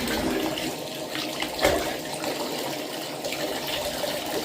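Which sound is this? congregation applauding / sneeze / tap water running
tap water running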